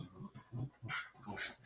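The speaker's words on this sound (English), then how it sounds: "Oh, look, there's 2 puppies." Several short, soft whimpers and whines from puppies come in an uneven series, faint and close, with a little background murmur between them. One of the dogs is a whippet.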